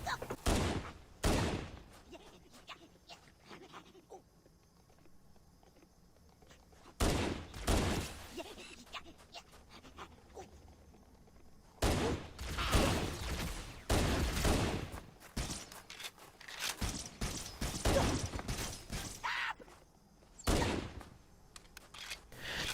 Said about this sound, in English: trust me when I say that the Halo 1 pistol is indeed headshot capable